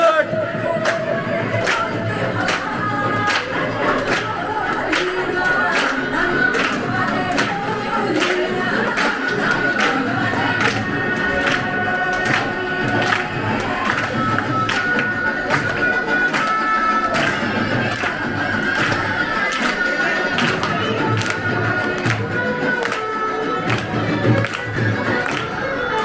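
Dense, continuous applause from a large crowd at an indoor Diwali celebration in Dubai, steady and loud across the whole stretch with scattered sharper claps and crowd noise mixed in.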